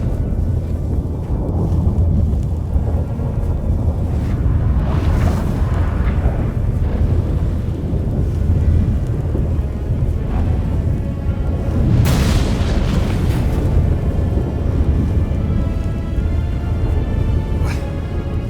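A thunderstorm breaking out in The Witcher 3, with deep rumbling booms and roaring wind filling the scene loudly and continuously, with a couple of sharper cracks.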